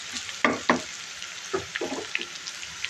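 Ginger, garlic and green chilli paste frying in a pan: a few sharp sizzling scrapes and stirring clatters come up close, with a quieter fizzing hiss between them and no talk.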